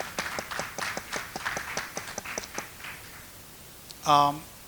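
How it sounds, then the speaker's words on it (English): Applause at a community event supporting a mayor's re-election campaign in Hoffman Estates: a brief, moderate patter of clapping from a crowd that fades out, followed by a short tonal sound. "A round of applause again for Harry and Amarveer Goman."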